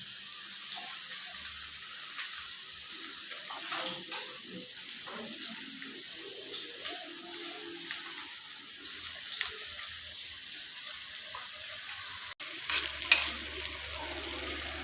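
Spices such as cinnamon, cloves, curry leaves, chili and onion fry in a pan for an Odia fish curry, a faint steady sizzle with occasional stirring scrapes and a sharper clatter near the end.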